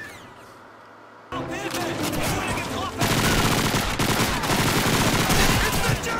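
Dense gunfire from the Call of Duty 2 video game, bursts of shots and machine-gun fire building after a quiet start and staying loud and continuous, with a voice talking over it.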